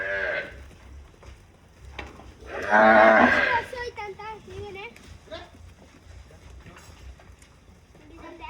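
Desi cows such as Gir and Sahiwal at a dairy farm, one cow giving a loud, close moo lasting about a second, with people talking and other animal calls around it.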